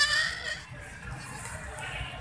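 A dairy goat in milk bleats at the Sahiwal goat market, close and fairly loud over the steady murmur of the crowded livestock market, with other animals faintly around.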